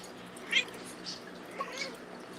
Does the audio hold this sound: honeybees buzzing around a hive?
no